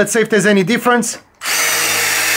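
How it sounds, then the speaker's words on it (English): Milwaukee red helix impact-rated bit driven by an impact driver, drilling in a steady, loud continuous whir that starts abruptly after someone speaks briefly and runs to the end. "So now we've got it on the impact gun."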